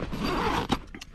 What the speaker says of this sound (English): I'll unzip this one, the crash pad.